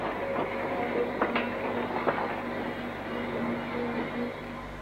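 A BR 9F steam locomotive, number 92165, hauls a rake of mixed coal empties, heard as a steady, moderately close rumble of rolling wagons with a few clanks and a faint tonal hum.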